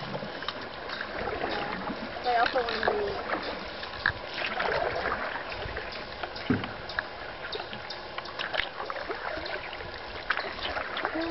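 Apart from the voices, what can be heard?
paddling a boat on water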